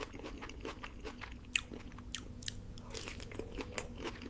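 Crunchy bites and wet chewing at a mukbang feast of mutton biryani and egg curry, close and steady, with soft mouth noises and a sharper crunch at about the midpoint, no talking.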